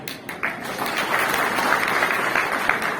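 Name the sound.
audience applause at Congress party workers' rally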